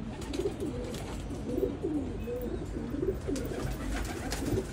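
Male Teddy pigeon of a prized bloodline cooing repeatedly in a steady, rolling rhythm close by, over a low background hum, with no talking.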